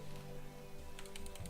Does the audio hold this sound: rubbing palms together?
no